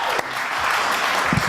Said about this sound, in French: on applaudit très très fort la divine Kelly